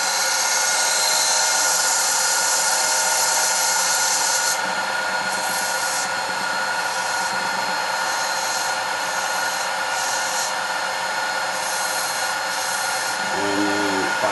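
Sandpaper at 220 grit rubs against a spinning woodturning on a lathe, making a continuous loud abrasive hiss over the lathe's hum, with no talking.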